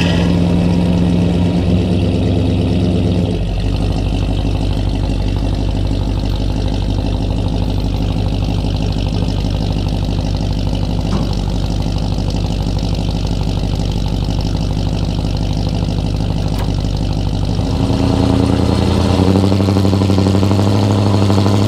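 A truck engine strains to pull a huge shipping container, a loud, heavy, sustained drone close by. The engine note changes early on and again near the end.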